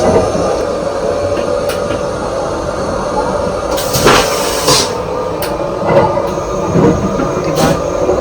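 Rattling carriage noise on a train ride in Japan, a steady rumble with intermittent sharper clatters and squeaks throughout, fairly loud and continuous with no talking.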